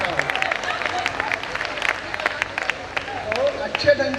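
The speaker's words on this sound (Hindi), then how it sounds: "ना ताली बजा दो यार" An audience at a Hindi poetry or satire stage show breaks into scattered, lively clapping, with sharp individual claps and crowd murmur rising and falling throughout.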